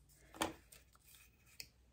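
Scissors snip through decorative paper while a scrapbook layout is being made: one crisp cut followed by two lighter snips, quiet and close, with no talking.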